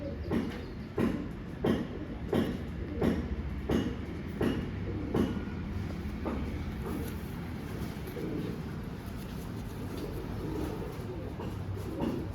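A fancy pigeon with a biscuit-coloured back and a greyish front coos in a steady run of low, pulsing calls repeating close by, then fades into a softer murmur of background noise.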